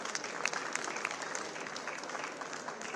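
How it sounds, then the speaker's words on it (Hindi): Steady applause from a crowd at a job appointment letter ceremony, a dense patter of many hands clapping continuously at an even level for a few seconds. "यश गर्ग आपके बीच, तालियां बजती रहनी चाहिए।"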